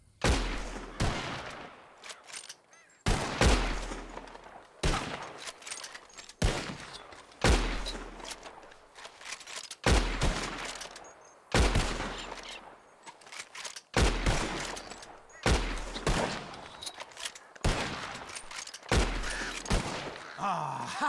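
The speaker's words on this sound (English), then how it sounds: "You shoot 4 birds out of the sky before me, you win." Repeated bursts of gunfire from shooting birds in the video game Red Dead Redemption 2, loud close volleys of rapid shots recurring every couple of seconds with short echoing tails, with no talk.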